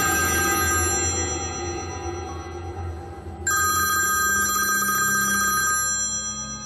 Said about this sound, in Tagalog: Yung telepono mo.